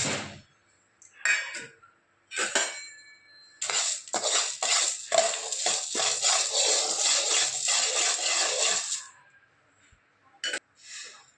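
Chana dal tipped into a pan of roasting sesame seeds for homemade idli podi, with clinks and metal scrapes, then a long dry rattling and crackle of the lentils and seeds, close and fairly quiet between pauses.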